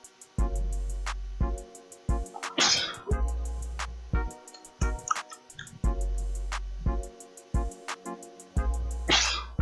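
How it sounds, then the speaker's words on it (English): Two sharp, noisy bursts like sneezes break through a steady, repeating electronic music loop, close and fairly loud. "I am sneezing again."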